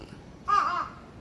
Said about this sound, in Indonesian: ada burung gagak tuh